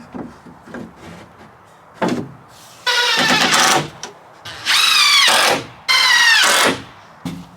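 Power screwdriver driving screws into wood while building a chicken coop, loud whirring bursts of a second or so that start and stop several times, with thumps and handling knocks between them.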